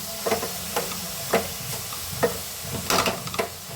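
Grated carrot being stirred in a thick-bottomed pan for carrot halwa, with a spoon scraping and pushing at a few regular strokes over a faint low sizzle, close and fairly quiet, no talking.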